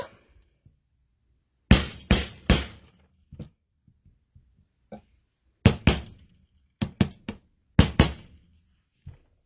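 A hammer strikes a letter stamp into a metal bracelet taped to a hard surface: sharp, loud metallic cracks in quick groups of two or three, separated by near-silent pauses with a few faint taps.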